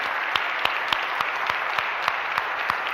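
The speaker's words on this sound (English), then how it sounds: "Give them all a big cheer and round of applause." A church congregation applauding, steady close clapping from a crowd with a few sharper individual claps standing out at a regular pace, no speech over it.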